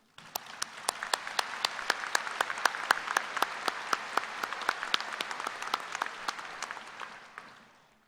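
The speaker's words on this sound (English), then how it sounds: "Would you please join me in a round of applause for these great faculty members?" Sustained audience applause at a spring university commencement ceremony honoring faculty award winners, dense steady clapping from a large crowd rising quickly, holding for several seconds and tapering off at the end.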